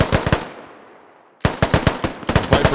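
Frag grenade in a military video game, a loud sharp blast decaying into a long tail, then rapid bursts of close gunfire.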